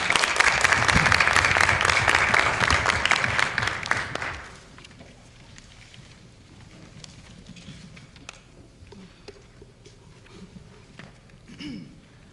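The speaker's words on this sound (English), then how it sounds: "One more round of applause." A round of applause for students at a school board meeting, dense clapping for about four seconds that cuts off sharply, leaving a quiet room with small shuffles and faint sounds.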